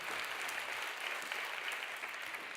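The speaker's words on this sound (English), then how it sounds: "that is worth a round of applause" A conference audience at Devex World 2018 breaks into applause during a session on neglected tropical diseases, a dense, even roar of many hands clapping that holds steady throughout.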